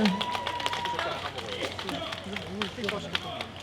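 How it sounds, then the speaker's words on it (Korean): A seated audience claps to welcome youth environmental committee students from Uijeongbu onto the stage, steady dense applause running throughout under a host's voice speaking over it. "큰 박수로 맞이해 주세요"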